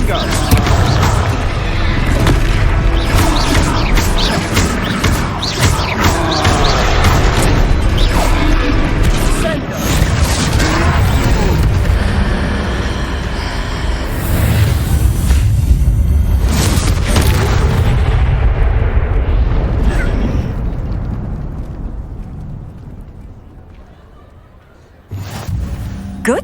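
Repeated booming Confringo spell blasts aimed at a troll in Hogwarts Legacy land as loud, heavy explosions within a thick, sustained battle mix, fading away toward the end before a final thump.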